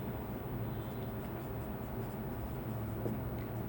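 Marker or chalk writing on a board during a classroom lesson. Faint, soft scratching strokes sit under a constant low room hum.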